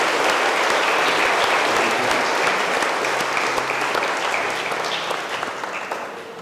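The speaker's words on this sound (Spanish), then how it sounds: "un aplauso para mí" A church congregation at a Christmas-season dawn Mass applauds after the choir, a dense burst of clapping that starts loud and slowly tapers toward the end.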